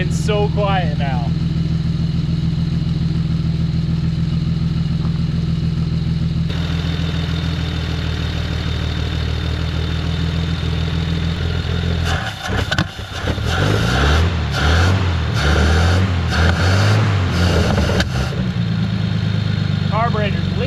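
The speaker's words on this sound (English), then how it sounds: "That engine is so smooth and so quiet now." A 1940 Plymouth Deluxe engine, still smoky with a leaking carburetor, idles with a steady low rumble throughout, then grows rougher and louder toward the end, while people talk nearby.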